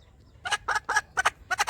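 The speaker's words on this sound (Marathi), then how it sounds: "हे बघा, एकदम प्युअर गावरान कोंबडी आहे." Pure desi gavran country hen, a small-combed bird with rough black legs, giving a quick run of five or six close, clear clucks in a choppy rhythm, with no voices.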